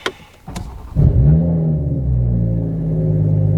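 A Toyota Supra fitted with a Magnaflow Xmod exhaust and Armytrix downpipe cranks briefly, then fires up into a loud, deep rumbling idle that settles and holds steady, heard close from inside the car.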